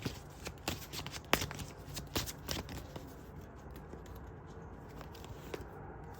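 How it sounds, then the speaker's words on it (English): Tarot cards are shuffled close by in quick, crisp riffling bursts and soft patters, with the pace slowing over the last few seconds. "here I'm shuffling a little bit further on this"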